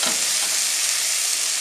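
Stock cube and cauliflower go into a pan of softened leek and garlic, giving a steady, loud broadband sizzle with a brief stir near the start, continuous throughout with no talking.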